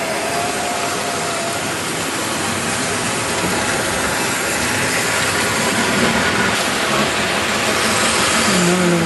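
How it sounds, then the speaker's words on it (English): HO scale model trains run on a model railroad layout at a Christmas show, two of them passing through a gorge beneath a bridge, giving a steady, dense whirring rumble that holds at an even level the whole time with no talk. "Another little look down there where the 2 trains come through a gorge underneath the bridge."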